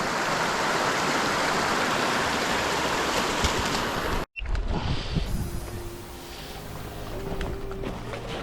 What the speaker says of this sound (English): It's cool to see some raging water.